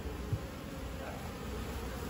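Honeybees buzz in a steady, dense drone at a hive entrance fitted with a pollen trap, a continuous close swarm hum with no voices.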